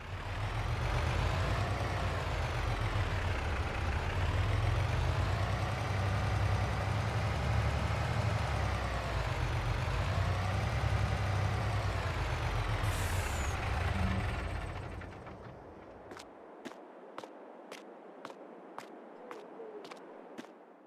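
A black Mack truck in Farming Simulator 22 revs and drones loudly with rising and falling engine pitch, then an air brake hisses and the engine cuts away to quiet, followed by a string of evenly spaced reversing beeps.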